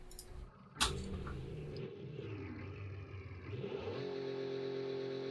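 A Dodge Viper engine in the BeamNG driving game: a sharp bang, then the engine revs up and settles, climbing again into a steady loud drone toward the end, with no talk.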